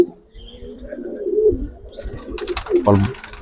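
Giribaz pigeons coo softly in low, rolling calls close by, with a brief burst of wing flutter or rustling near the end.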